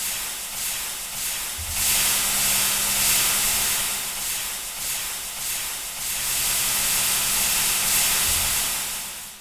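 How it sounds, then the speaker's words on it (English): A steam macerator from a Minecraft modpack grinds uranium: a loud, steady hiss of venting steam with a low mechanical rumble that swells in two long pulses, with no voices. "another alternative here is just throwing your uranium and steam macerating it"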